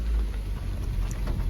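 Heavy rain pours down in a dense, even wash of noise with a low rumbling undertone, steady and close throughout a short stretch without talk.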